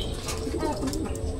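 Racing pigeons cooing at their loft after a training toss, soft low repeated coos close by amid steady background rustle and noise.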